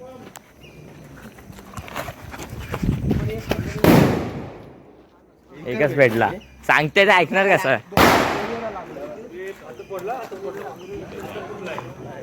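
Sharp Diwali firecracker bangs go off, including two loud blasts a few seconds apart, with crackling and people talking and shouting around them.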